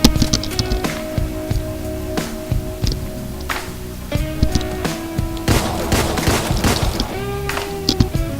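Revolver gunfire in the video game Deadbolt: loud, sharp shots fire rapidly and repeatedly, mixed with other game effects and sustained tones.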